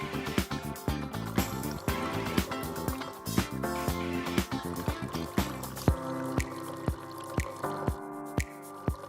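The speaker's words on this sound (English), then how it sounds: "the water flow will start and stop." Water runs in stop-and-start bursts from a NESCAFÉ Dolce Gusto Genio 2 coffee machine by Krups during descaling, with close, clear drips and squishy trickles that thin into sparse single drops toward the end.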